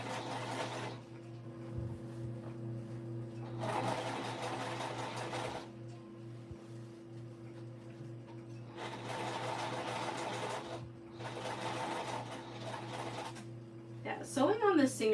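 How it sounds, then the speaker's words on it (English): A Singer sewing machine stitches in several bursts of steady whirring motor and rapid needle chatter, with quiet pauses between runs over a low background hum. "Sewing on the Singer is great"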